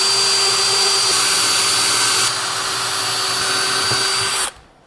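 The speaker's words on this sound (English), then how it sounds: "So let's drill these out." Power drill boring bolt holes for cabinet handles, a loud steady whine running continuously for over four seconds, easing slightly midway and then stopping abruptly near the end.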